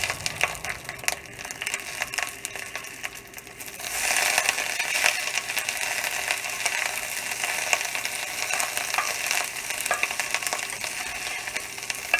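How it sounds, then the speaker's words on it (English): Cabbage frying in a pan, a steady loud sizzle that swells partway through as the pan heats up, with occasional scrapes and stirring clicks and no talking. "Now I'm going to cook this until it turns brown, so that it looks fried."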